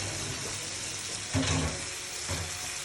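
Mixed vegetables tipped into a pan of spice masala cooked down with chili powder, setting off a steady close sizzle with a brief louder burst of frying around the middle and a second smaller flare near the end.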